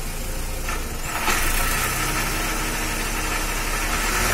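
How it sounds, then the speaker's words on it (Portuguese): Audi A3 engine, remapped, pulling hard in third gear during a road test; a steady, loud mid-pitched roar with road rumble that holds throughout, rising slightly after the first second, with no talk. "vai Sérgio, bota aí a terceira e chama."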